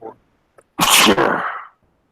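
A single loud, explosive sneeze close by, with a brief breath before it and a trailing exhale.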